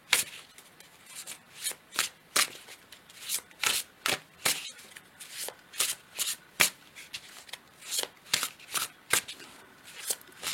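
Tarot cards being shuffled for a reading, a steady run of crisp riffling bursts repeating roughly every half second, close and fairly loud with no talking.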